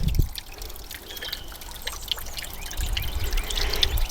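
A garden fountain trickles and splashes steadily at a soft, close level, with the flow swelling a little louder toward the end.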